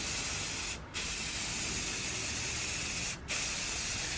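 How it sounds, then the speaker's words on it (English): Self-etching Rust-Oleum spray paint is applied to steel outdoors in cold weather, giving a steady, close, continuous hiss that breaks off twice for an instant, with no voices. "This is self-etching Rust-Oleum, just generic Home Depot paint."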